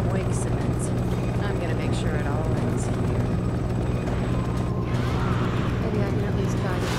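Helicopter in the video game Resident Evil 6 on a building rooftop, a steady low rotor drone running continuously throughout under someone talking.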